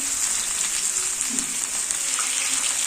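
Elephant apple pickle with crushed rice frying in a pan gives a continuous, even hiss and sizzle at close range, with no talk over it.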